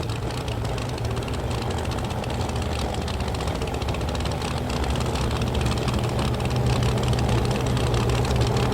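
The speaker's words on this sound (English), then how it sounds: "Mitchell's car with the blown engine on alcohol, that very crisp exhaust note through the zoomy header." A blown drag racing engine running on alcohol with a zoomie header, its crisp, steady exhaust note droning continuously at a distance with a broad, rumbling low end.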